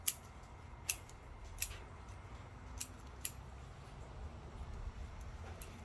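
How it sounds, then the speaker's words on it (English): Scissors trimming the roots of a Japanese black pine bonsai during repotting, five or six sharp, close snips spaced about a second apart over a quiet background. "we can give that a little bit more of a trim"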